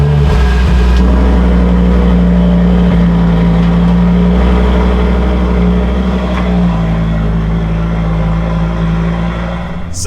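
A modified Audi RS3 8Y five-cylinder accelerates hard, its engine note loud and close from inside the car, rising steadily in pitch through the gear as it pulls, with a sharp transient at the very end.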